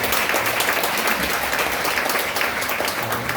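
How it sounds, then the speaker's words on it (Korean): A church congregation at a Friday all-night worship service claps together in thanks after a prayer, a loud, dense, continuous applause from many hands filling the hall throughout. "우리 하나님 앞에 감사와 영광의 박수 올려드리겠습니다"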